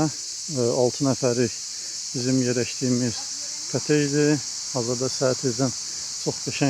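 Crickets chirp in a steady, continuous high drone outdoors at a two-storey cottage at the Çobanbulaq resort in Xaçmaz, running beneath a person talking throughout.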